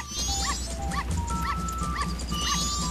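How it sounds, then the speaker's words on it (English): A dog in the Majora's Mask video game gives a run of short yips and whimpering barks, evenly spaced over a steady hum of game music. "Come this way, dog. This way."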